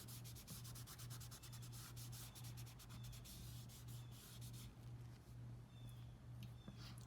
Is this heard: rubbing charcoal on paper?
yes